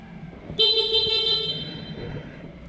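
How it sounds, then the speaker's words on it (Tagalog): A car-style horn on a Vespa Sprint 150 air-cooled scooter blares in one steady, loud blast lasting about a second, over low road rumble. "Horn."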